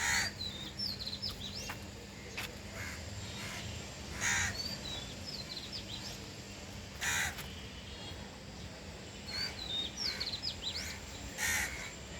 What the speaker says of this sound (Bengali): ওই যে পাখি বসে আছে ডাকছে ভিন্ন সুরে ডাকছে